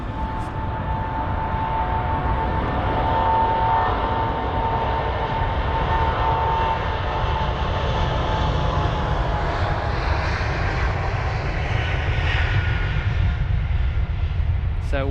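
An ATR 72 turboprop lands at London Heathrow, its engines a continuous loud drone with a steady whine, sustained throughout as the aircraft passes.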